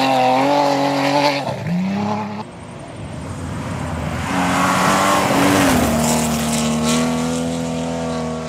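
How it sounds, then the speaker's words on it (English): A Honda Jazz rally car fitted with a supercharged 300-plus horsepower V6 screams loudly at high revs, dropping briefly on a gear change before climbing again with a sustained, whining engine note. "replacing the stock Honda Jazz unit is a supercharged 300 plus horsepower V6 engine"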